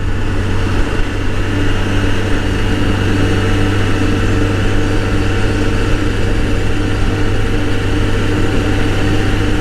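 A Kawasaki Voyager 1200 motorcycle cruises steadily at speed, its engine drone mixed with heavy, constant wind rush, loud and unbroken throughout with no talking.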